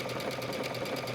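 A sewing machine runs a stretchy triple stitch along a leggings hem, a rapid, even mechanical chatter that holds steady and close for about a second.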